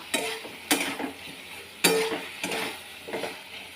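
Okra curry with whipped yogurt stirred in a pan: a few separate scraping sweeps of a spoon against metal over a soft sizzle, close and fairly quiet, with no talking.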